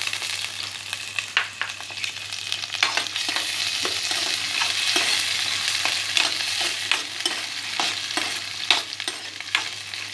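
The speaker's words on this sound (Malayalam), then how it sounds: "ഇനി അടുത്തതായിട്ട് തക്കാളി ഇടുകയാണ് കേട്ടോ. തക്കാളിയും പച്ചമുളകും ഉണ്ട്." Tomatoes and green chilies fry in a pan with a dense, steady sizzle, broken by frequent clicks and scrapes of stirring throughout, close and fairly loud with no voices.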